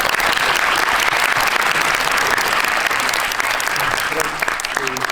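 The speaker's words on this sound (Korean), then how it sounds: "한번 또 크게 한번 박수 한번 보내주시죠" A theater audience at a film screening Q&A applauds the director, a steady, dense wash of many hands clapping that continues throughout.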